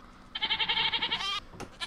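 Many goats bleating in the video game Minecraft, a crowded pen of them; a long wavering bleat followed by shorter overlapping bleats, close and fairly loud, with no talk.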